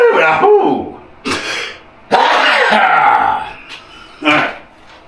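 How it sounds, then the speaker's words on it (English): A person sneezes while finishing blended drywall, giving a few sharp, close vocal bursts separated by short pauses, with some throat-clearing-like sounds. "First, I'm gonna sneeze"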